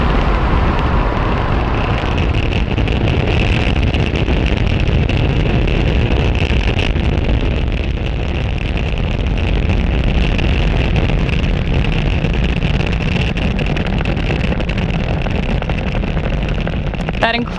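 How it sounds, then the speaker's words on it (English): A SpaceX Falcon 9 rocket lifting off from pad 40 with the Satria-1 satellite, heard as a loud, continuous, wind-buffeted roar that stays steady throughout without pause. "That incredible view means that Falcon 9 has successfully lifted off from pad 40"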